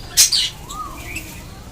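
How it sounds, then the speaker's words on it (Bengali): A colony of budgerigars: a couple of sharp, close, high chirps, then softer, thinner calls over a light background hiss. "10 জোড়া বদ্রি পাখি নিয়ে এসেছি আমার নতুন সেকেন্ড কলোনিতে।"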